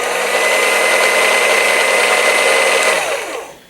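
A modified Aldi Ambiano cordless hand mixer running loud and close, a steady high whine with a tonal hum that holds evenly and then winds down at the end.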